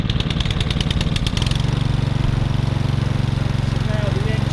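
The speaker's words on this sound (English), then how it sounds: "So now the engine is running." A Hayter 48 Pro lawnmower engine runs with a steady, close mid-pitched drone, preceded by a short burst of rapid mechanical pulses as it settles into an even idle.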